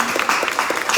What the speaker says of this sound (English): So hand of applause for New York State and Majority Leader and Governor Hochul